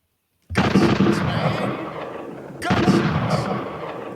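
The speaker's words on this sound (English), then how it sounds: "Gunshots." Two heavy gunshot blasts, the first at the start and a second about two seconds later, each with a long rolling echo that trails off.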